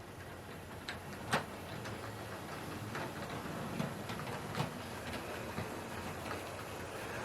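A Dapol Class 22 'Baby Warship' model diesel locomotive trundles over track points, giving a steady low rolling rumble broken by faint, scattered clicks as the wheels cross the rail joints.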